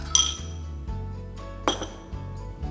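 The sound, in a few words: stirring sauce of vinegar, chili oil, soy sauce, garlic, honey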